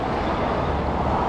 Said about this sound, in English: It's a dump truck of some sort.